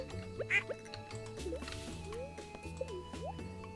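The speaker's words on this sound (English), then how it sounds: "I think that's a duck, yeah, going in the river." A small watery plop as a duck drops into a river in Stardew Valley, surrounded by soft drips and trickling water under background game music, with a voice talking lightly.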